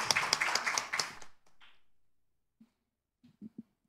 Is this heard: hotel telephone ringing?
no